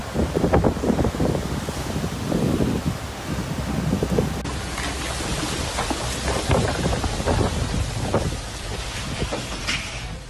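Heavy typhoon rain pours down steadily over wind gusts and rumbling thunder in Japan, a dense, continuous roar that stays loud and close throughout, with no voices.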